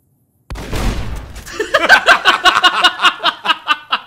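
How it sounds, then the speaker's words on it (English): A sudden loud explosion in Fallout New Vegas, a deep boom bursting out of silence, followed by a rapid series of crackling, popping secondary blasts that fade out over a few seconds. "I like how that was probably the most realistic explosion I think I've seen in this game."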